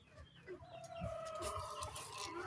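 A Black Spartan gamefowl rooster in a backyard gives a few short, close clucks and throaty calls, fairly quiet and alone.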